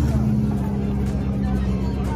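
A loud car engine revs at a gathering of big loud cars, a close, heavy rumble with a strong low drone holding steady across the whole moment.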